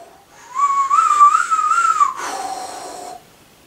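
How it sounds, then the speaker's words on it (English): A high, wavering whistle rises and holds, then shifts to a steadier, breathier tone before fading; it sounds like wind whistling, likely produced by a human voice. "The wind whistled louder."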